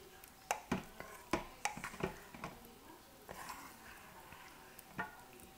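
Utensil stirring rebatched cold process soap in a pot: a series of sharp scraping clacks and knocks, irregular and close, with quieter gaps between.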